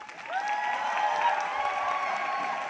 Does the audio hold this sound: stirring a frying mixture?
no